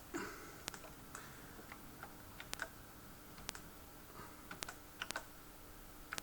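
Keys on a Spectravideo SV-318 home computer, a 1983 model with unreliable keys, are pressed in sparse, irregular clicks over a steady background hiss. The taps are faint and scattered, with no talking.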